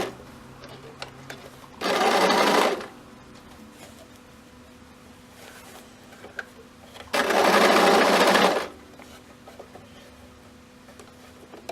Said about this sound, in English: we're ready to sew again.